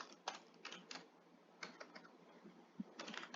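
Computer keyboard typing out HTML code for a Django template, in quiet bursts of close, light keystrokes separated by short pauses, with no talking.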